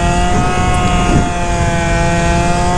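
A Phantom F12 scooter with a 70cc engine revving hard and steady, a loud, sustained buzzing drone held high throughout, heard up close outdoors in the cold.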